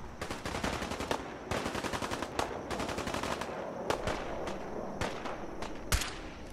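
Rapid gunfire fills a Fallout 4 VR fight: bursts of automatic shots crackle in quick rhythmic volleys with brief pauses between them, moderately loud, ending with a heavier single blast.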